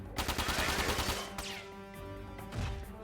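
Rapid burst of gunfire from a mech's weapons in the Front Mission 4 video game, a dense clattering volley in the first second or so followed by a ringing metallic tail and a second, smaller impact near the end.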